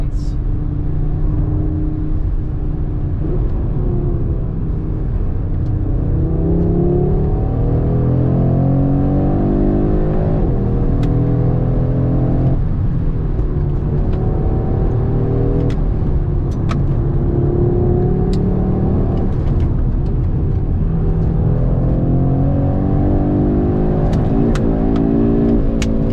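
A 2022 Audi RS3 accelerating hard on throttle, its engine note climbing through repeated rising sweeps with gear changes, loud and close throughout, with a voice talking over it.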